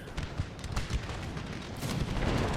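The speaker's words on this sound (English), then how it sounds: "Why can I hear muskets?" Rapid, crackling gunfire bursts repeat over a dense rumbling battle din, with scattered volleys of musket shots layered throughout, in the video game Total War: Empire.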